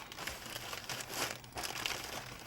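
A plastic package is opened with scissors, making faint crinkling and rustling of plastic in a brief close burst, with no talking.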